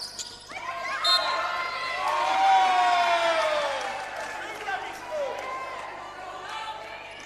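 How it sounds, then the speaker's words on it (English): Basketball crowd at a women's championship game (Wyndham v McKinnon, round 15) cheering and growing louder during a tight three-point contest, a swelling roar from many voices with a commentator talking over it close by. "Crowd getting worked up here."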